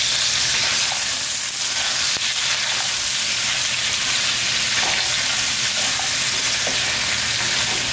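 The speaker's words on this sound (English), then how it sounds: "What I want to do now is give that a good mix." Goat pieces with green seasoning, garlic and onion are stirred in a hot pot, giving a loud, continuous frying sizzle with occasional soft knocks from the spoon.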